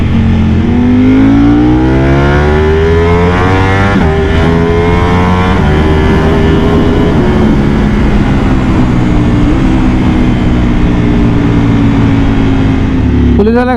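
A Ducati Panigale V4 motorcycle engine revs at low RPM, its loud harmonic note climbing and falling through repeated throttle blips over steady road noise, close to the rider.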